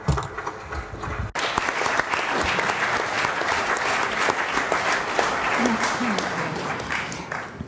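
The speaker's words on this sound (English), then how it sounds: "This warm round of applause is really showing the great appreciation for our Speaker of the House of the Chamber of Deputies." A warm round of applause from the audience at a Rome conference on Alcide De Gasperi and European construction, starting after a short spoken lead-in and continuing as dense, steady clapping throughout, with voices faintly beneath.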